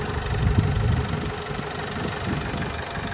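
A 2011 Opel Vivaro van's 2.0-litre engine idles steadily with a low, rumbling, slightly uneven throb, close by and with no voices.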